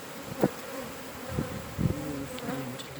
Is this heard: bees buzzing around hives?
yes